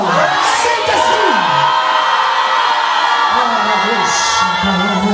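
A congregation at a deliverance church service shouts and cries out together in a loud, sustained roar of many voices, with whoops and bellows rising over a dense crowd sound.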